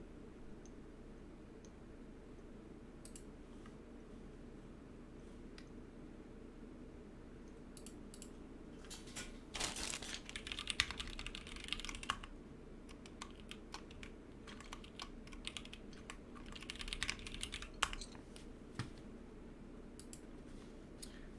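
Typing on a Lunar AEK 65 keyboard fitted with SKCM Orange Alps switches: close, crisp clacking keystrokes, quiet and sparse at first, then steady bursts of rapid presses over a low background hum.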